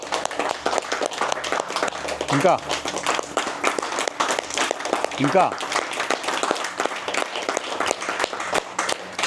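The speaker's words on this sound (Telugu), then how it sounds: "ధ్యానానికి గట్టిగా చప్పట్లు కొడదాం." A group claps together at the close of a meditation session: dense, continuous applause running throughout, with an instructor's voice speaking over it to urge louder clapping.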